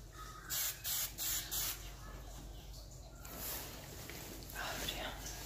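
Hairspray sprayed onto a show poodle's coat in four quick, close bursts, followed by a softer continuous hiss, with faint talking in the background.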